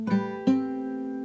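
Acoustic guitar playing part of a riff with the strings taken in a new order: two quick plucked note clusters, the second ringing on clearly and alone.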